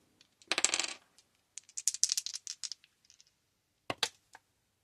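Dice rattle and clatter on a tabletop during a Skull Tales board game. A burst of tumbling clicks comes first, then a longer scattered run of taps and a last short clatter, close and fairly quiet.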